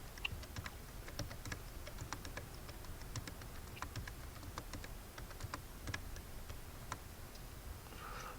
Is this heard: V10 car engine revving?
no